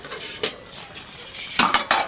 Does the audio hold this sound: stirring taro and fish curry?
yes